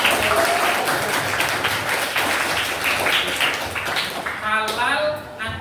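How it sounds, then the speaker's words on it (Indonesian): An audience claps during an Islamic lesson on halal and haram, a dense, steady burst of applause that fades near the end as a voice starts speaking. "tepuk tangan buat"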